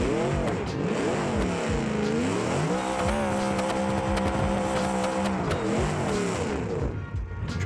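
Car tires squealing through a long drift in the BeamNG driving game, with a loud engine revving continuously underneath for several seconds, close and steady with no talk.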